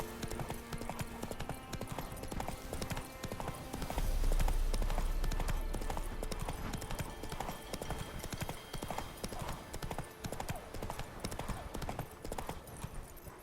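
Roach, a horse in the video game The Witcher 3: Wild Hunt, gallops with steady, rapid clip-clop hoofbeats that run throughout over a busy game soundscape, swelling a little louder midway.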